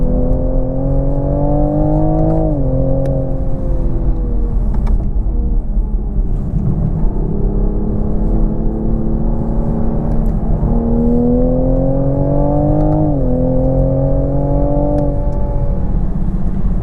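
A 2020 Toyota Supra accelerates hard around a race track, its engine note climbing steadily through the gears with two sharp shift drops, loud and continuous from inside the car.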